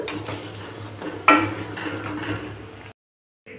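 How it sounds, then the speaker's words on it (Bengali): Flower fritters fry in a pan with a steady low sizzle, a sharp clink of a utensil against the pan near the middle, then a brief silence before the frying resumes. "এটা লাল লাল করে ভাজা হয়ে গেলে আমি এগুলোকে নামিয়ে নেব একটা একটা করে।"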